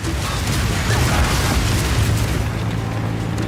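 Incendiary bolts exploding in the video game Path of Exile 2, a dense, continuous roar of booms and fiery bursts, loud and sustained with no gaps.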